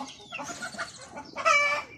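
Native Philippine chickens of mixed colours cluck on a farm, a run of close, overlapping hen clucks and chatter that rises into a louder burst of calls near the end.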